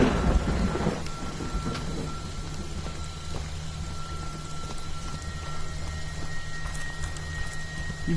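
Steady rain noise fills the scene in the video game Friday the 13th, a constant broadband hiss with a low rumble underneath, no distinct thunderclap standing out.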